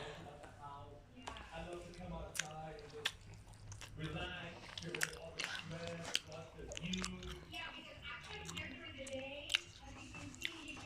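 Someone bites into and chews a burger up close, with wet squishy mouth sounds and soft crunches in an irregular rhythm, while a voice talks quietly over the chewing.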